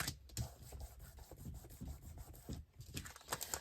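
Glued old book paper is burnished down by hand, giving soft, quiet rubbing and scraping strokes in an uneven rhythm, close up and alone.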